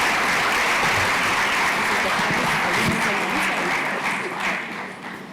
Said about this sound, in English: Please help me welcome, with a rousing round of applause, to the stage the Deputy Head of Mission here at the Embassy of Ireland